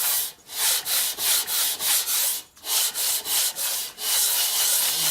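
A Harley flathead gasket surface is rubbed back and forth across an abrasive sheet in a quick, regular rhythm of close, raspy strokes with a short pause midway.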